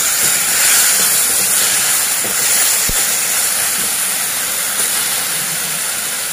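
Pumpkin sautéing in a hot pan while kheer is being made, giving a steady, loud, broadband sizzling hiss that carries on unbroken throughout, with no talking over it.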